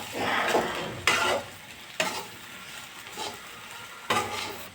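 Pork with coriander powder heating in a pan and being stirred, sizzling steadily with periodic bursts of scraping as the spoon moves through it.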